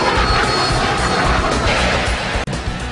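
A Harrier jump jet's engine roars loud and steady as a dense, broadband jet rush, holding close throughout with one sharp momentary dropout near the end.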